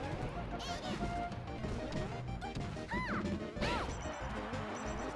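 A heavy down smash lands in Super Smash Bros. Melee, a sharp crash punching through dense game sound effects, with a few more impact hits across the stretch and a commentator talking over it.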